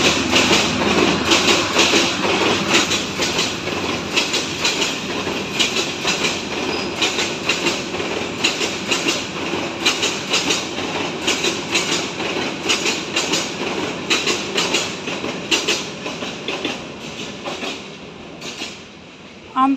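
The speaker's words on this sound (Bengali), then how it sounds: "যে ট্রেন এসেছে, ট্রেনে হুইসেল দিয়ে ফেলাইছে।" An intercity train passes along a railway line right beside a house, recorded from a balcony: a loud, steady rumble with rhythmic clickety-clack of wheels over rail joints that lasts the whole time and eases slightly near the end.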